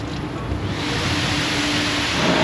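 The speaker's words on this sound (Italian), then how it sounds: "Metto il secador?" A hair dryer blows on a freshly bathed dog, a steady loud rushing stream of air that keeps on throughout.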